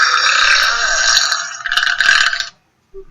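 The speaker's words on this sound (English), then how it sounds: "Was that you who just burped?" A long, loud burp in a classroom, rumbling for about two and a half seconds with a rougher second half before cutting off, then a brief faint sound.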